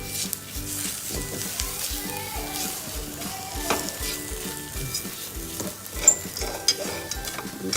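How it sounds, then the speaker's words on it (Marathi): Crushed almonds roasting in ghee on a low flame, a soft steady sizzle with continuous rhythmic stirring scrapes of a spoon against the pan. "मंद गॅसवरच भाजून घ्यायचे बदाम जसं रवा आपण भाजतो ना शिऱ्याला तशा प्रकारे बदाम चुरा पण भाजून घेणार आहोत आपण"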